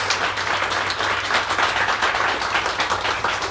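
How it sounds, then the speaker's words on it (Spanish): A congregation at Sunday Mass gives a loud, sustained round of applause, a thick continuous wash of many hands clapping throughout, with a faint low hum underneath. "Vamos a dar un fuerte aplauso a Jesús"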